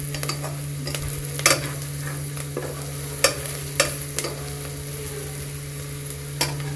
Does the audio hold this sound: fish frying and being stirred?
yes